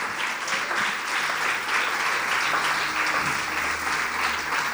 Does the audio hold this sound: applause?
yes